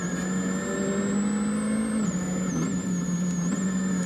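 A rally car on a snowy or icy Monte-Carlo Rally special stage, running studded tyres on its right side, passes with a loud sustained engine drone whose pitch holds, then dips and wavers as it works through corners.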